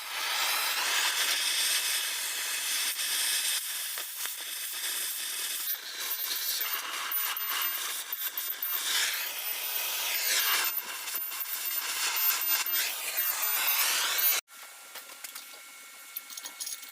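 A cutting tool grinds through a vehicle's forward body mounts with a harsh, sustained hiss and rasp that wavers in intensity, then cuts off abruptly, leaving quieter scraping.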